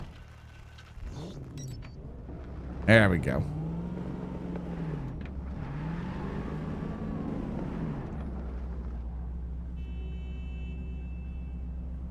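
A car in the video game Cyberpunk idles and drives with a steady low engine rumble and a few rising and falling revs, joined by a sharp clunk early on, while someone speaks briefly over it.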